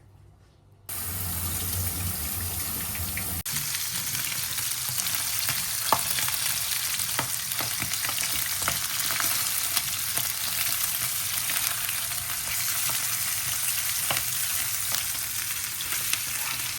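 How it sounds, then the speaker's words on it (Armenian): After a brief quiet moment, rice starts frying for pilaf with a loud, steady sizzle, punctuated by occasional spoon taps and scrapes against the pan. "Հիմա բոլոր կողմերում մենք տապակում ենք, այսպիսի թեթևակի պետք է տապակացնենք։"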